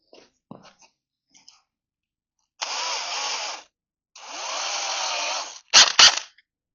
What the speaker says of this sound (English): Ooh, would help if I got a drill.